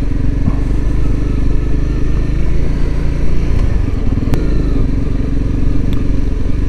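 A motorcycle rides past a dispersed campsite in the Dragoon Mountains of Coronado National Forest. The engine drones loud and close throughout, with a rough, rumbling tone and some rattling clatter.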